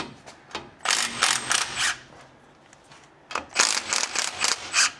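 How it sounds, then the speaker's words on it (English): Ratchet wrench loosening the outer tie rod ends on a 2022 Ford F250 Tremor during a shock upgrade, heard as two bursts of rapid, close metallic clicking separated by a short pause, with no talk. "this here attaches our 2 tires to our outer tie rod ends, which means we need to loosen both of these"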